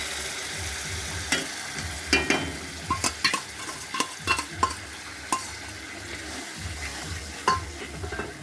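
Cumin, chili and coriander powder paste mixed in hot water goes into a hot frying pan for a duck egg curry, giving a steady sizzle broken by irregular spoon scrapes and clinks against the pan.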